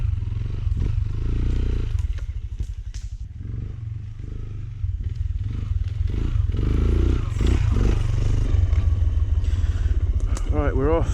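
A dirt bike engine runs loud and steady as the rider pulls away on a solo wild-camping trip, the motor droning continuously with clatter and gear noise, revving and rising in pitch near the end.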